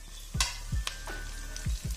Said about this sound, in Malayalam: വെളിച്ചെണ്ണ ചൂടായപ്പോഴത്തേക്ക് 1/4 ടീസ്പൂൺ കടുകും 2 ചുമന്നുള്ളിയും വറ്റൽമുളകും കറിവേപ്പിലയും കൂടി ഇട്ടൊന്ന് കടുക് വറുത്തെടുക്കാം